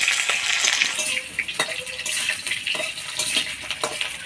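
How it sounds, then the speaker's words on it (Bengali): Potatoes stirred in tempering oil with dried chilli and nigella seeds in a pan, giving a soft sizzle broken by repeated sharp scrapes and clinks of the spatula against metal. "এবার আলুগুলা দিয়ে দিব। আলুগুলা একটু ফোড়নের তেলে নাড়াচাড়া করে নিব।"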